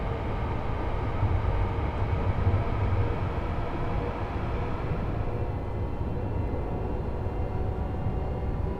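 A train in Train Sim World 5 on the East Coast Main Line, running in the dark early morning: a steady, loud rumbling drone of wheels and traction with a faint hum, constant throughout with no talk.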